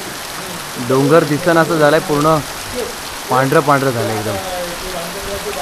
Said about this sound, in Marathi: मस्त असा जोरदार पाऊस पडलाय.